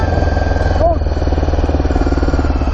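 A motorcycle engine runs steadily close by during a riding lesson at a training course while the rider works the clutch and throttle, with a brief rise in pitch partway through and a voice talking over it.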